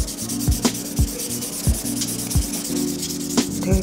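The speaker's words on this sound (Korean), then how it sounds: "파일링 끝나면 샌딩 하시면" A sanding block buffing an acrylic nail extension after filing: short, close rubbing strokes repeat at an even pace, dry and scratchy, with no voices.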